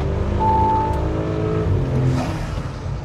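An Audi B9 SQ5 with its 3.0T engine revs hard on a dyno, intake sound rising in pitch over a few seconds and then easing off, loud and close.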